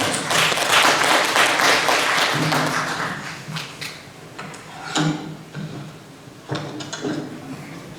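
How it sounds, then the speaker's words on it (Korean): Audience members at an academic presentation on intangible heritage crafts applaud a presenter, a burst of clapping that is fuller at first and then thins into a few scattered, louder individual claps. "큰 박수 부탁드리겠습니다"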